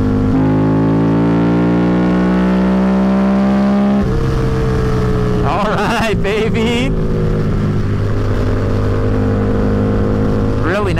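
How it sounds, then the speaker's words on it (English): Custom Harley-Davidson V-Rod engine revving in a tunnel amid traffic, loud and close: a rising rev that drops at a gear change, then a sharp throttle blip with a deep honking note, and someone speaks briefly over it. "Really nice, big honk out of this engine."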